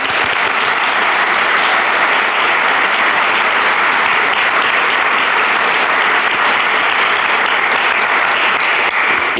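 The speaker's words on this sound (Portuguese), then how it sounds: "Aplausos." Applause from a studio audience greets a capoeira master at the start of a show, a dense, loud and steady roar of many clapping hands that holds at the same level throughout with no talking.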